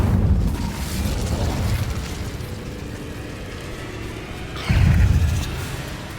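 Casting the Incendio fire spell in Hogwarts Legacy: a rushing, roaring whoosh of flame bursts over a steady background rumble, followed later by a second louder fiery blast.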